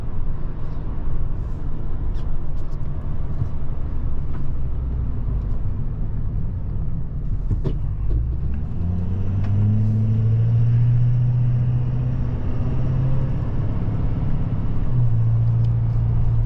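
A Dodge Durango cruising on a road, heard from inside as a constant low rumble of engine and tyres, with the engine note rising and settling partway through.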